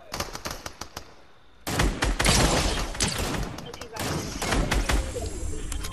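Gunfire in the video game Fortnite, a rapid rattle of shots near the start, then louder dense bursts of automatic fire that keep going with brief breaks.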